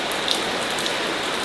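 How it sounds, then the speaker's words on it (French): Steady rain falls close by in a dense, even hiss with scattered drop pattering, continuous and fairly loud, with no talk over it. "mais il pleut aujourd'hui."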